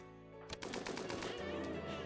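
Gunfire in the colony game RimWorld, a sudden crack followed by a dense rattle of rapid shots continuing to the end, fairly faint and heard without talk.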